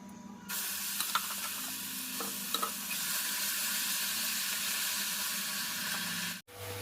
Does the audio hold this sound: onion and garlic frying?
yes